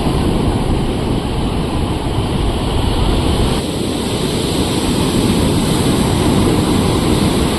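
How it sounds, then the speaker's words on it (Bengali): Sea waves breaking on the beach at Puri, a loud, continuous roar of surf with wind buffeting the microphone, close and unbroken throughout. "পুরীর সমুদ্রে কি ঢেউ"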